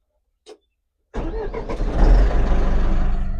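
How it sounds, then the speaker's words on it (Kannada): A bus engine, on a new Prakash Coach bus rebuilt in Goa with a vintage look, cranks after a brief click, catches and settles into a smooth, steady, close idle rumble. "ಎಷ್ಟು ಸ್ಮೂತ್ ಇದೆ ಅಲ್ವಾ ಸೌಂಡ್ ಗಾಡಿ ಇಂಜಿನ್ ಸೌಂಡ್."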